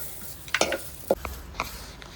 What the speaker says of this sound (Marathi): हे बघा कांदा खोबरा असं चांगलं भाजून घ्यायचं